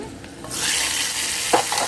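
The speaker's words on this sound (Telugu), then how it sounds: "పోపుని వేసేద్దామండి ఇందులోని" Hot tempering poured into drumstick leaf dal sets off a sudden loud, close sizzle that swells and holds, with a brief clink of the pan near the end.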